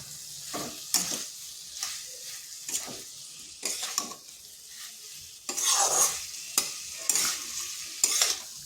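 Potatoes and bitter gourd stir-fried in oil in a wok, a close, crackling sizzle broken by repeated scraping and tossing strokes of a spatula in an uneven rhythm, with no talk.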